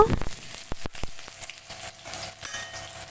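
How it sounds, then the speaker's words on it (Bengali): Chopped onion frying in hot oil with whole cumin, a dried red chilli and a bay leaf, a soft steady sizzle broken by sharp clicks and scrapes of stirring. "পেঁয়াজটা কিছুক্ষণ ভেজে নেব"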